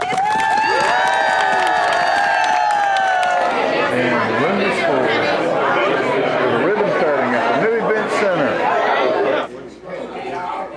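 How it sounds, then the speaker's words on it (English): Full room of people applauding and cheering at a business ribbon cutting for an event center, a dense continuous roar of chatter, claps and shouts that stays loud before easing near the end. "let's give the event center at 205 a big round of applause as we cut the ribbon to start this business"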